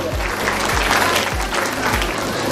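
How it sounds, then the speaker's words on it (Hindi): An audience at a school prize-distribution ceremony applauds with loud, dense clapping, while a low rhythmic thump pulses underneath about every half second. "आप जोरदार तालियों में इनकी जो है हौसला अफजाई करें"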